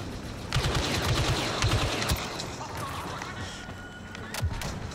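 Video game gunfire in a firefight, rapid bursts of close shots cracking in quick rhythm over the game's background noise, with a player talking at times.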